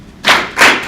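A crowd claps together on cue, two sharp unison claps about a third of a second apart, loud and close with no talking.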